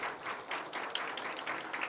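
A church congregation applauds in a brief, dense patter of many hands clapping, steady and moderately quiet, heard on its own.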